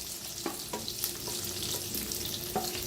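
Small chilies sizzling in hot oil in a pan, a steady close fry with a few scraping stirs of the spoon against the pan.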